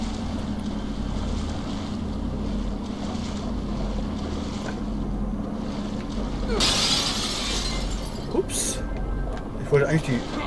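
Shop windows shattering in The Evil Within: a bright crash of breaking glass bursts out over a low watery ambience, followed by a second short glassy smash and a few small clinks near the end.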